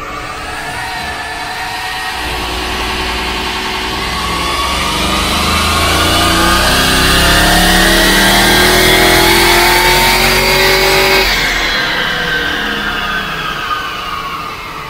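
A Holden Commodore VF with an LS3 V8 revving up on a dyno during a baseline run on the stock tune, the loud engine note climbing steadily through the gears before cutting off near the end.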